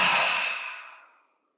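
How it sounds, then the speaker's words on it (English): One slow, deep breath out, a soft airy exhale that starts fairly strong and fades gradually to silence over about a second, close and alone during a guided meditation. "Now again, slowly deep breathing in again."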